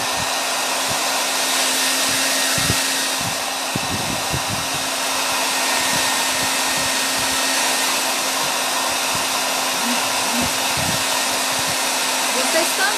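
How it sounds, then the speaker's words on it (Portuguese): A hair dryer runs steadily and loudly throughout, with a constant broadband whoosh and a faint motor hum, while occasional small knocks and handling sounds occur underneath. "Vou passar aqui o secador."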